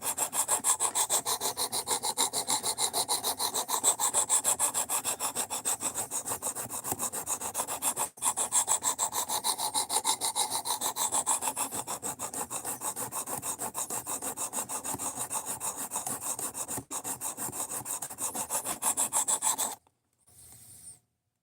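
Steady, continuous abrasive grinding of a steel knife bevel on a RoseCraft Blades Pocket Monster, hogging off material, loud and close, running unbroken for about twenty seconds before stopping abruptly.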